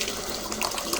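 Hot soy liquid pours through muslin into a kitchen sink while making tofu, a steady rushing splash of water running down the drain, close and continuous.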